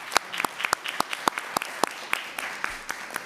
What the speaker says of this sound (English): So I want to give a round of applause for catering.